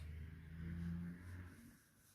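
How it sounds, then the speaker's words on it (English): A car engine hums and swells as a vehicle passes by outside a window, low and steady, rising then fading away. "occasionally cars go past my window"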